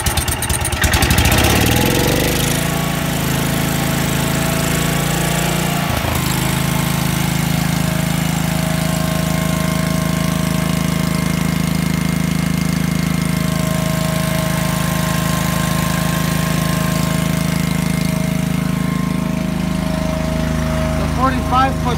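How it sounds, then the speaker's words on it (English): A two-cylinder Kohler-type motor on a 1985 Great Dane crane trailer starts with a rough choked sputter, then settles into a loud, steady idle that chugs without letup for about twenty seconds. "It's a two-cylinder coulter motor."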